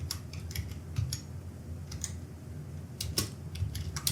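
Light, scattered keyboard clicks from someone typing a mushroom recipe request into a computer, soft isolated taps spread over a few seconds against a quiet room hum.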